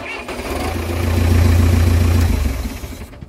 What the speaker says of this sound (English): I don't know what changed, but now it'll crank with the key.